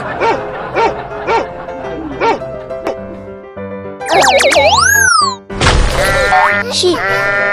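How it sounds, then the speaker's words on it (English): A cartoon dog in a children's animal painting game barks in a quick series of short yips over bouncy background music, followed by springy boing effects. "Dog."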